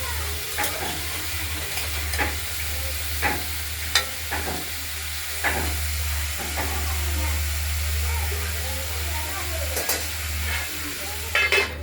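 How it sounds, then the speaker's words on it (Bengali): Potatoes, flat beans, eggplant, radish and spinach fry in a pan for a winter spinach curry, with a steady sizzle and repeated scraping stirs of a spoon through the whole stretch, close and fairly loud. "তরকারিগুলো একটু ভাজা ভাজা করে নিয়েছি"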